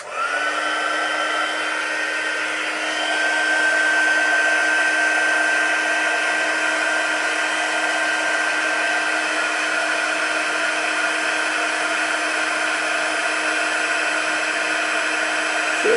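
A heat tool blows steadily and close to emboss a daisy stamp on a paper tag, a continuous loud whining hum that holds without a break.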